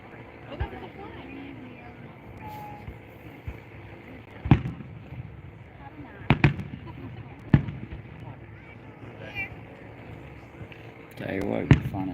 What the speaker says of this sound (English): I love those star shells. Those are really cool.